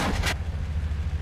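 A single sharp gun report from the Total Conflict: Resistance video game opens the moment, followed by a low rumbling tail and engine-like hum that fades under a quiet background.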